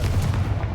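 Confringo blasting spell cast in the Hogwarts Legacy video game, a short, loud booming burst with no speech.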